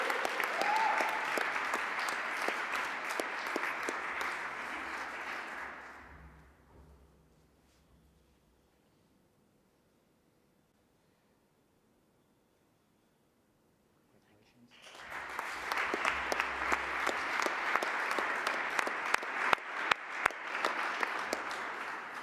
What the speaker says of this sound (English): A big applause for Atiste Ali Chandra.